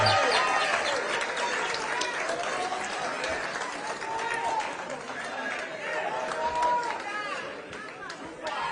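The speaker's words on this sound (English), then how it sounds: "Another loud of applause for Baba wa kila mtu." Crowd applause and cheering at a Kenyan political rally for Raila Odinga: a steady, dense wash of clapping and crowd noise that carries throughout, with a voice talking over it.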